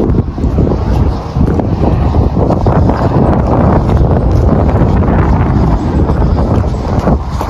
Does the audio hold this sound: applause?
no